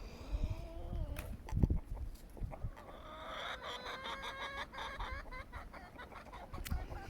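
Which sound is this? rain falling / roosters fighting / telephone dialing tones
roosters fighting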